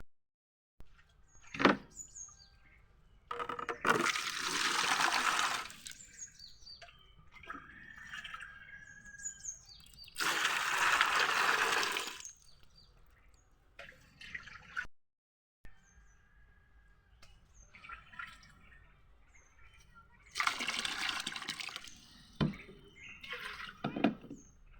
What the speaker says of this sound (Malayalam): അപ്പം നമുക്ക് വെള്ളം നനച്ചെടുക്കാം.